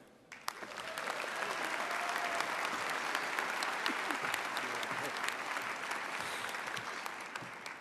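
An audience claps steadily in a hall to welcome Robert Tucker, starting abruptly and holding a full, even applause for several seconds before tapering slightly.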